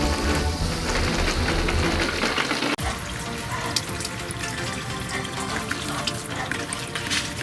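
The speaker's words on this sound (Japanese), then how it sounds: "めっちゃ雨漏りしてる。" Rainwater leaks through the roof of a shed under renovation, a dense, steady patter and trickle of water that shifts to scattered, irregular drips after a sharp knock partway through.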